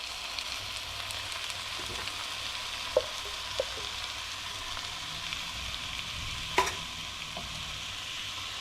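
Canned diced tomatoes with their juice cook in a skillet, a faint, even sizzle running throughout with a few light clicks of a utensil against the pan.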